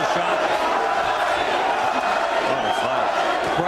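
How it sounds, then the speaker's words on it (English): Boxing arena crowd at a middleweight bout featuring Irish fighter John Duddy, a dense, steady roar of cheering and shouting voices filling the space throughout, no single voice standing out. "Crowd trying to get behind Duddy."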